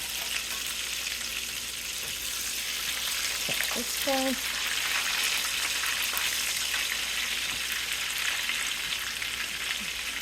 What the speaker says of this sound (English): Careful when you flip those in that hot grease.